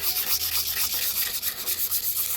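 Sandpaper rubs back and forth across a wooden sword trainer to roughen it for epoxy, quick rhythmic scratchy strokes, close and fairly loud.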